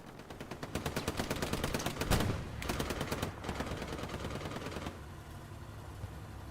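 Sustained machine gun fire in Hell Let Loose: a long run of rapid, evenly spaced shots, loud and close, with short breaks between bursts before it trails off.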